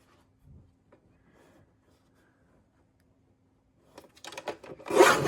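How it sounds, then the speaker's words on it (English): Paper trimmer cutting a branding strip off a 12-inch sheet of patterned craft paper: a quiet start with faint handling, then a loud, rasping cutting stroke building over the last second and a half, alone without talk. "I'm just going to trim off this branding strip."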